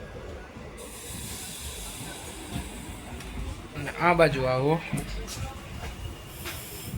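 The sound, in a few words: Veraval to Lushala passenger train, sleeper coaches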